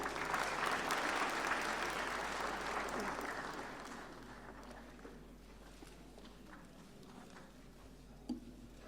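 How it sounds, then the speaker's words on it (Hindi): Loud applause at the 68th National Film Awards ceremony as a Swarna Kamal for best writing on cinema is presented; dense clapping fills the first few seconds, then thins and fades to a quieter hall with a faint thump near the end. "जोरदार तालियां"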